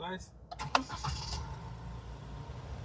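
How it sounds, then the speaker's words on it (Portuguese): A JAC Hunter pickup's 2.0 turbo diesel engine runs at a steady idle, a continuous low rumble. A few clicks and knocks sound early on, and a voice talks over it. "vocês só ouvirem um pouquinho o motor, até para refrigerar, porque tá quente"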